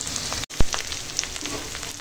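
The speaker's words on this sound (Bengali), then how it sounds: "রসুনটা দিয়ে একটু নেড়ে নেবো, রসুনটা ভাজা হয়ে গেলে শাকটা দিয়ে দেবো।" Garlic sizzles in hot oil in a pan, a brief close crackle broken by a sharp utensil knock and a short scraping stir.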